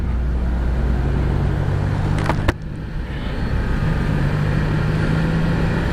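Heavy morning traffic on Commonwealth Road, with a steady, close rumble of car and vehicle engines throughout and a brief sharp clack partway through.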